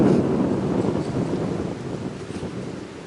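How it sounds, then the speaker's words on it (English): Gusty wind buffets the microphone outdoors during a metal-detecting hunt in wet, wintry weather, giving a loud, rough, continuous rumble that slowly eases off. "Sorry about the wind. Starting to get windy out."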